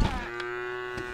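A cow in the Craftopia video game lets out one loud, sustained moo, close and clear with no talking over it.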